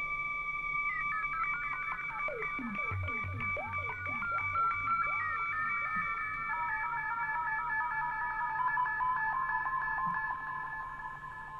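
Arturia Mini-V software synthesizer playing a sustained, piercing lead tone with wavering pitch modulation, harmonic lines sweeping up and down in a rapid repeating pattern and then settling into a steady held note, loud and continuous with no talk.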